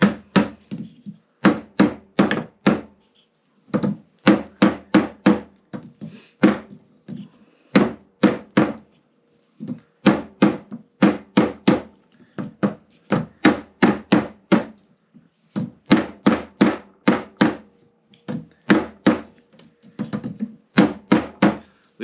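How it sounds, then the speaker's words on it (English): Hammering beer engine hand-pull pump seals and O-rings into place in a garden pub shed: loud, close, sharp knocks in quick bursts of four to six, repeated steadily with brief pauses and no talk. "This is what makes me think I've replaced these seals already, because I'm having to hammer that in."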